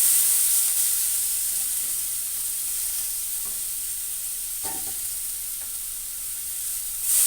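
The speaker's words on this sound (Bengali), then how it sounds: "শাপলা ভেজে নিচ্ছি" Shapla (water lily stems), squeezed dry and seasoned with turmeric and salt, fry in a pan with a steady, close hiss and sizzle and faint stirring, with no one talking.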